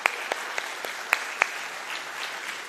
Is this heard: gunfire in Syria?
no